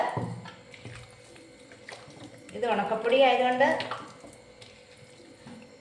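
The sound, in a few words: water poured into rice flour batter and mixed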